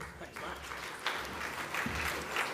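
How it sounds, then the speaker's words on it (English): Conference audience applauding a panel introduction at a short-term letting and accommodation event, a thin, fairly quiet patter of clapping with a voice speaking over it. "A little bit of a lacklustre applause."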